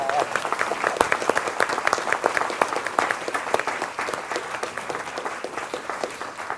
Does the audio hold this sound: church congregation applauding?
yes